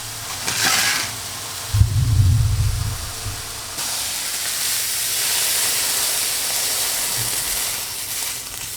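Scrambled eggs cook in a pan with a steady, soft sizzle and hiss, preceded by a brief low clatter near the start.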